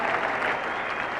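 Steady, dense applause from a cricket crowd greeting Gavaskar's double century, sustained at even loudness throughout without pause.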